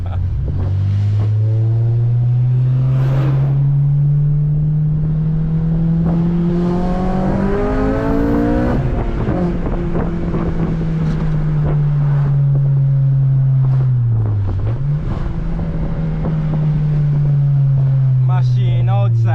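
An 8th generation Honda Civic Si with its VTEC engine, heard from inside while driving, revs loudly and rises through the gears with steady rising pitch sweeps, a climb to a peak, and a brief dip at a shift.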